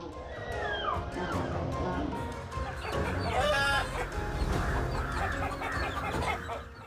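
Agitated clucking and squawking from a hen fighting off a bird of prey, with flapping and scuffling noises, continuous and fairly close throughout.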